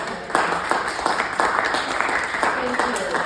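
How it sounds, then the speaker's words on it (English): Applause at a city council candidates forum, scattered individual claps standing out over a thinner crowd, moderately loud, with some talking mixed in. "could we just give them a round of applause?"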